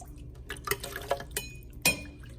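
Boiled chiles tumble into a Ninja blender jar in a few wet plops and glassy clinks, soft and close, with drips between the hits and no one talking.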